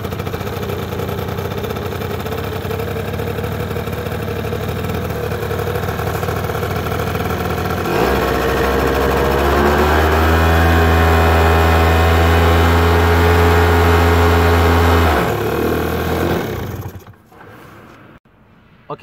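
Kymco Super 9 two-stroke scooter engine idling loudly close by, then revved hard with the throttle for several seconds before dropping back and cutting off near the end.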